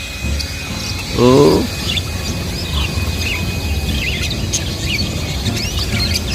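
Faint, scattered bird chirps over steady outdoor background noise, with a brief low murmur early on.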